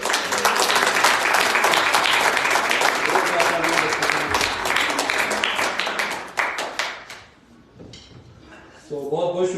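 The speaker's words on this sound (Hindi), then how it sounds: "एक बार फिर बच्चे के लिए जोरदार तालियां बजाएं।" A church congregation at a Christmas Sunday service applauds a child, with dense, loud clapping that tapers into scattered claps before a voice speaks at the end.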